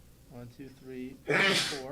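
A single loud, breathy sneeze bursts out near a backgammon tournament table, following a man counting aloud in a steady voice.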